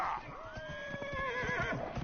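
A horse whinnies in Dragon Age Inquisition, one drawn-out, wavering neigh, clear and fairly close, over faint game background and a few soft hoof taps.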